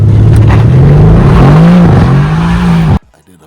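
A 600hp+ Mercedes-AMG on cheap tires revs hard while doing donuts, its engine note rising and falling in loud, close sweeps with tire noise underneath before cutting off abruptly.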